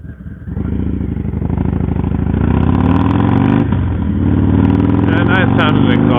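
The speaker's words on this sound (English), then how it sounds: "nice sounding exhaust." Harley-Davidson Low Rider S with an aftermarket exhaust revving, a loud close rumble that builds and surges with throttle blips while a person talks over it.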